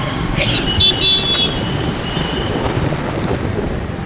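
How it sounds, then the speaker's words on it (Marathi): Road traffic jam in rural Maharashtra: a steady rumble of vehicle engines with scattered horn toots, close and loud, with people talking over it. "Traffic jam."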